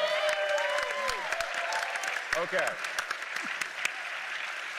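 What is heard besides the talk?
audience applause at a PAX East panel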